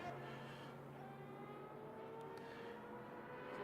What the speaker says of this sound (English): Definitely probably the best sounding car in this game.